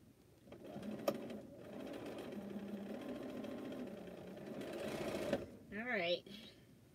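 An embroidery sewing machine stitches out a design with a steady, close mechanical whir and rapid needle rhythm running through most of the moment, ending in a brief higher squeal; a person talks faintly over it.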